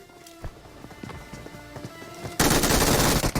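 Gunfire in the mobile battle royale game BGMI: scattered sharp shots early on, then a dense, loud burst of rapid automatic fire in the final second, with no talking.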